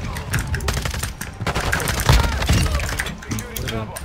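Rapid bursts of video-game gunfire from an MX Guardian shotgun crackle loudly and almost continuously, with sharp impacts and shattering hits layered over the action.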